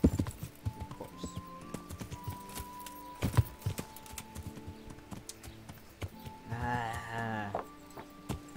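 Horse hooves clip-clopping in the medieval video game Kingdom Come: Deliverance, a steady rhythm of close, fairly quiet hoofbeats with a short whinny near the end.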